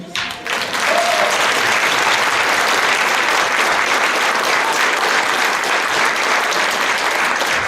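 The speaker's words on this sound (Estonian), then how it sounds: "et külalised sulle veel ühe suure aplausi teeksid" A large audience at a kindergarten spring party claps loudly and steadily, a dense wash of applause that swells quickly and holds for several seconds.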